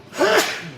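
A single close, loud human sneeze, a sharp burst with a brief trailing exhale, heard alone.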